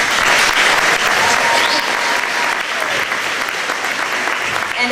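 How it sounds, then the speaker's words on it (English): Crowd at a 2007 senior prom and graduation event breaking into sustained, loud applause, broad and even with a light murmur of voices. "can everyone please give a round of applause to everyone who made the senior prom of 2007 possible"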